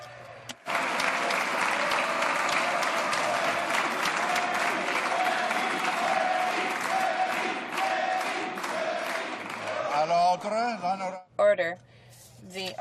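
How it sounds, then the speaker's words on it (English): Sustained applause fills the House of Commons chamber for about ten seconds, dense and steady, then thins out as a voice begins speaking over the last few claps. "I'm not sure if they're going to keep on clapping."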